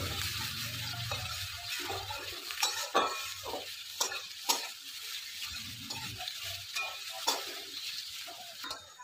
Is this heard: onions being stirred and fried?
yes